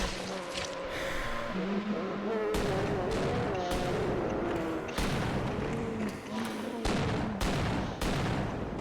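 Gunfire in an SFM horror animation from the Team RED series: loud, dense bursts and sharp repeated shots that break off and restart several times, over a constant rumbling background.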